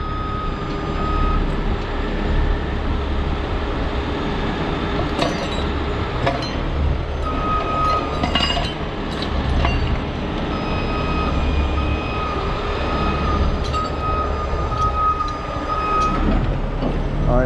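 A backing truck gives off a steady series of high reversing beeps over a constant low engine rumble outdoors, with faint clinks scattered through.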